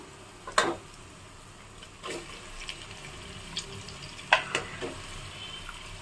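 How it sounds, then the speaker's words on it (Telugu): Washed goat head meat goes into a pan of frying ginger-garlic paste, with a few wet splashes and bursts of sizzle followed by softer crackling and stirring sounds. "ఇప్పుడు దీంట్లో నేను శుభ్రంగా కడిగి పెట్టుకున్న పలకే మాంసం వేస్తున్నాను"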